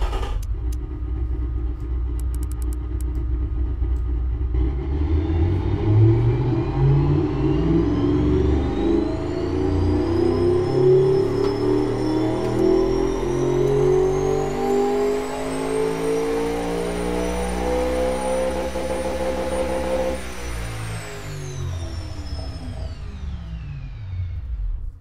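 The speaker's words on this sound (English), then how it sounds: "this particular engine would be absolutely horrible at drag racing, since it only really gets its guts going once you basically rev it within an inch of its life" A simulated high-output V8 in the Automation game revs on a test run, climbing steadily in pitch to a sustained high-rpm scream, holding near the limit, then dropping away sharply at the end; loud and continuous with no talking.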